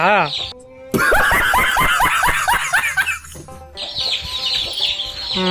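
Country chickens clucking and squawking in a busy run of calls, close and fairly loud, with people talking around them.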